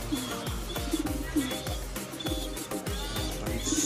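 A paired couple of tippler pigeons coo close by, a repeating rhythm of short throaty swooping notes about twice a second, with no talk over them.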